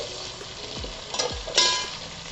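Spices frying in a pan with tomatoes for street-style pav bhaji, a soft continuous sizzle with a couple of low thuds and a few brief scraping stirs, close but fairly quiet.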